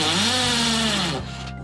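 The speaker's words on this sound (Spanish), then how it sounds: "Los meteremos aquí con el taladro y con su tope." A power drill driving wooden dowels into wood, a loud whining motor that bogs and drops in pitch mid-run, then cuts out with a brief winding-down tail, no voices.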